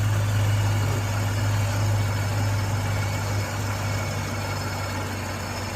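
A supercharged GM car engine idles steadily and close by, a deep, even rumble with a low throb that holds without a break and eases slightly toward the end.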